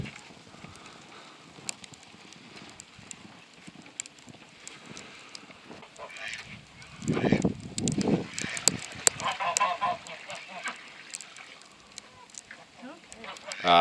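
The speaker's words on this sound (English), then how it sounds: "The duck's about to come take a bath" Geese or ducks honk and squawk in a winter farmyard near buckets of water, the calls loudest midway and mixed with splashing, wind and a person talking.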